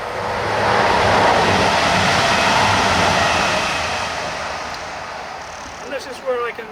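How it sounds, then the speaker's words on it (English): A train rushes past nearby at the former South Wingfield station site in Derbyshire, a broad roaring swell that builds, holds, then fades, with a voice speaking faintly over it. "Here comes another train."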